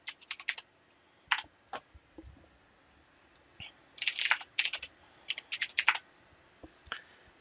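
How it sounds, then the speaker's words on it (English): A password typed on a computer keyboard: quiet, close key clicks in short irregular bursts separated by pauses, with one quicker cluster of taps near the middle. "type it in again, re-enter the same password again"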